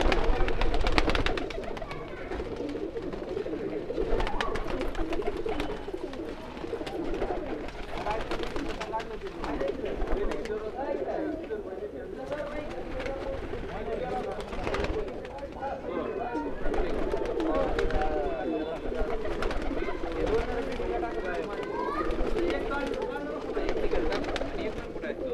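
Pigeons coo steadily inside a rooftop racing-pigeon loft, a dense continuous murmur of many birds nearby, with people talking throughout.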